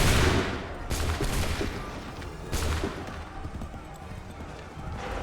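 Musket volleys crack out in the Assassin's Creed 3 video game, two or three loud bursts of massed gunfire a second or so apart over a busy battlefield din, with shouted commands among them.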